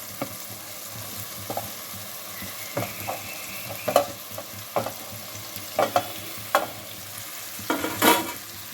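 Potato and cooked green lentil curry is stirred in a hot pan, a continuous sizzle under repeated scraping and tapping strokes of a spoon, close and without speech.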